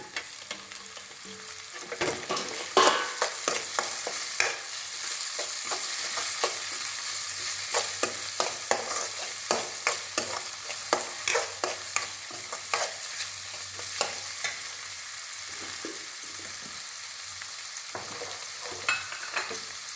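Steady frying sizzle of tomato, onion and crushed ginger-garlic sautéing in a pan, with repeated scraping and stirring clicks from a utensil, continuous and close, no voices.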